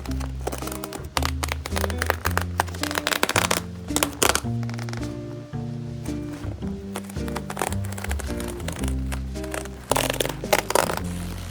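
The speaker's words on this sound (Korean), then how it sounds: "어차피 전부 새로 만들어야 해서 막 뜯어버릴게요." A faux leather gym bag is torn apart by hand, with continuous dense ripping, tearing and crackling of material and stitching, close and steady throughout.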